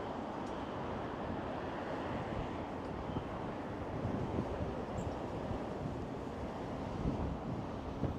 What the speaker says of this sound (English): And here's the wind again.